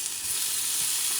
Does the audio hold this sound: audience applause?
no